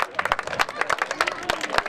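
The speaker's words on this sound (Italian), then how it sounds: "Un applauso per Carmine!" Crowd applause for a spectator named Carmine at an outdoor athletics race event, dense broadband clapping with scattered sharp claps over a steady bed of hand noise, fairly close, with some voices mixed in.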